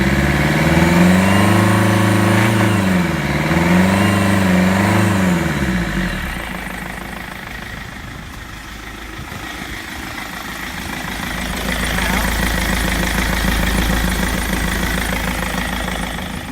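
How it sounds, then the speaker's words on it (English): Land Rover Freelander TD4 diesel engine running with the intercooler pipe disconnected, a loud close drone that rises and falls with a couple of revs early on, then settles to a rougher idle with a hissing, rushing air noise. "we can run the engine with this pipe off"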